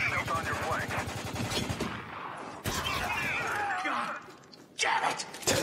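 Gunfire striking the player character in the shooter game Spec Ops: The Line: rapid, close bursts of machine-gun shots and impacts, dense and loud, with a sharp renewed burst partway through and another near the end, voices mixed in.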